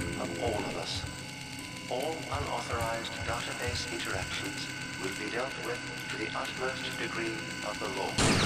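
Automatic assault rifle fire in the video game System Shock, a run of rapid mechanical bursts and clacks repeating through the stretch, heard under someone talking.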